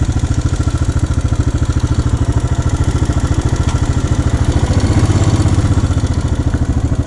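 A motorcycle engine idles steadily on a solo ride near sand dunes in Nubra Valley, Ladakh, a loud, close, even low chug throughout with no talk over it.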